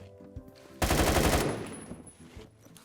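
An AK12 rifle in Roblox Phantom Forces fires a rapid automatic burst of about half a second, loud and close, followed by a fading tail and quieter game sounds.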